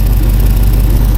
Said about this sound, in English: I was letting it warm up and I heard an exhaust leak.